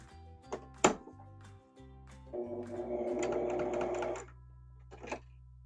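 A sewing machine runs a straight stitch in a steady, close, buzzing run of about two seconds, preceded by a few light mechanical clicks and thunks.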